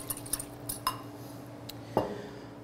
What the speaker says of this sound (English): But we do need to mix that up because cornstarch will always settle to the bottom of a sauce like this.